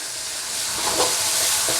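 Chili powder fries in hot oil for a fish gravy, giving a dense, steady hissing sizzle close by with slight swells as it is stirred.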